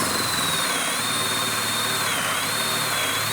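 A power drill spins a 35mm bit to bore hinge cup holes in wood, giving a steady, loud whine that holds at an even pitch throughout with no talking.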